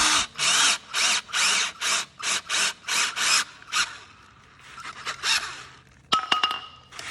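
A power screwdriver drives studs into a Case VAC brake part in a quick series of short whirring bursts. A pause with faint handling noises follows, then a sharp metallic clink.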